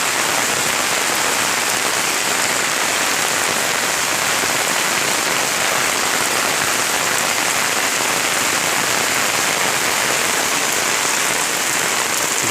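Heavy monsoon rain pounds down on a house with a tin roof, a dense, loud, unbroken roar of drops that holds steady from start to finish with no voices.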